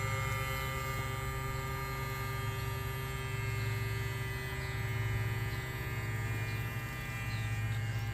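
Small electric camp shower pump running submerged in water, a steady low electric hum with faint buzzing overtones, quiet and continuous with no voices.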